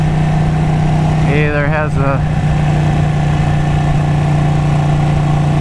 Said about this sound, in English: This bike definitely doesn't like being upshifted with clutches.